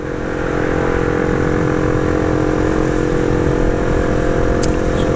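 Idling motorcycle engine with a slight knocking fault, a loud close steady drone with a rapid even pulse, running alone without talk.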